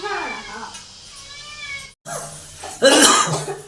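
Harsh coughing from someone frying fish in a home kitchen, set off by pungent ground-spice paste in hot oil; a few rough bursts, the loudest near the end, with a cat meowing earlier and a voice in between.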